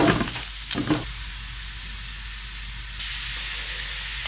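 Pork for chili con carne hisses and sizzles loudly as it drops back into a hot pot, a couple of sharp clattering bursts at first, then a steady, close frying hiss that swells slightly toward the end.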